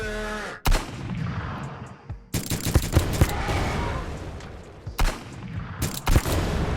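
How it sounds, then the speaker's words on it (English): Bullet-impact effects from an indie video game fire in rapid, loud bursts of crackling hits and booms, three dense volleys separated by brief gaps, with no talking. "I implemented the sound effects for bullets hitting objects"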